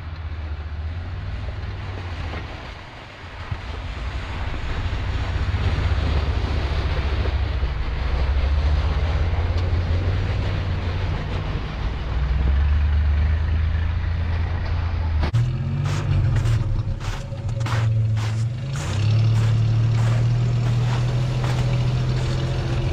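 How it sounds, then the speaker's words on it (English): A second-generation Toyota 4Runner on new wheels and freshly replaced tie rods drives along, its engine and road rumble loud and steady, with wind buffeting the microphone and a brief rattling shift near the end. "So we're gonna go for a little drive now,"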